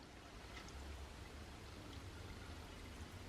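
Water flowing down a drain on a homestead, a faint, steady, even rush with no break across the whole stretch.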